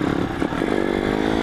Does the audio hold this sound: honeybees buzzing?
no